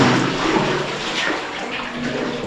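Water gushes steadily from a tap in a continuous, loud hiss, unbroken for the whole stretch.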